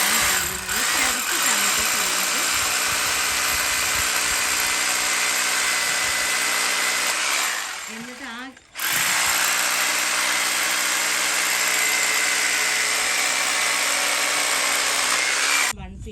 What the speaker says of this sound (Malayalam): അപ്പോൾ അവര് ഡ്രില്ല് ചെയ്യാൻ വേണ്ടി നോക്കാം കേട്ടോ